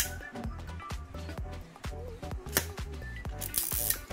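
Close, quiet mechanical clicks and ratcheting winds come from a Zorki 4 rangefinder camera as its shutter is cocked and fired on the bulb setting, in a busy, irregular run of small snaps.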